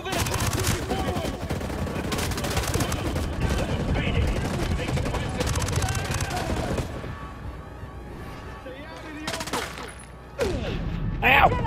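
Sustained gunfire from the Ghost Recon Breakpoint game, with dense bursts of shots and booms for about seven seconds, then sporadic shots over quieter background, with voices talking underneath.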